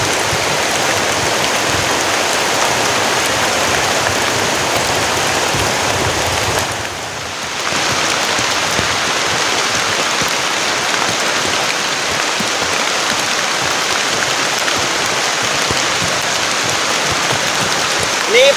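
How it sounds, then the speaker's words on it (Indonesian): Heavy rain pours onto a camping tent in the forest during a storm, a dense, steady, close drumming roar that dips briefly midway and then carries on. "Ini hujannya lama banget teman-teman."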